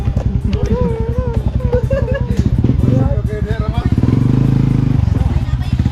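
Motorcycle engines rev and rumble close at hand during an outdoor celebration along a mountain route, with voices chattering over the steady, loud engine noise.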